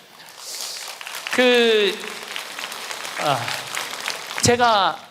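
An audience at a lecture by a Catholic priest claps in a soft, diffuse spell of applause. A voice speaks loudly over it in bursts.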